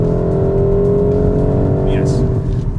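A BMW 128ti hot hatch, its engine droning steadily inside the cabin during precise paddle-shift gear changes, a loud sustained hum with slight pitch shifts while a voice talks over it.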